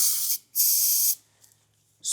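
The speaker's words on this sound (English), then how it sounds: "spray the wires down with it, and then that will eat all the corrosion out of there" Cage DeoxIT contact cleaner hisses from an aerosol can onto corroded battery wires in three short close-up bursts, the middle one longest, with brief quiet gaps between.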